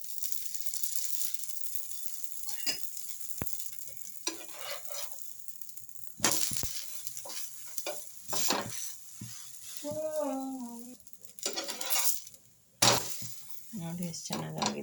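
Dosa batter sizzles and fries in oil on a hot pan, a steady crackling hiss with occasional clatter and stirring, a voice talking briefly over the cooking partway through.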